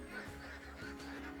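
Ducks honk and quack faintly and repeatedly in the background of a duck farm, mixed with steady low ambient noise and no talk.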